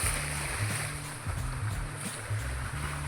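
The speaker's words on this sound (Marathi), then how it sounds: "मोटर चालू केली" A water pump motor runs with a steady low drone and rhythmic mechanical pulsing, accompanied by a constant hiss of flowing water, continuous and moderately quiet.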